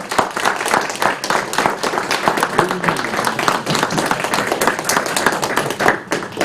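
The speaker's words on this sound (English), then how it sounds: "I'd like to give everybody yet another round of applause." A round of applause fills a city council meeting, steady dense clapping from many people in the chamber, loud and continuous throughout without letting up.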